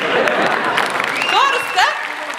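A concert audience applauding at a show, with dense, steady clapping filling the hall throughout and a voice calling out briefly over it.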